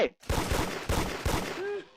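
Rapid bursts of gunfire in a Roblox game fire repeatedly over about two seconds, loud and close, with a brief pause near the start and a synthetic tone toward the end.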